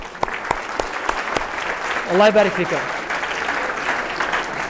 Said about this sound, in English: And a round of applause to all teachers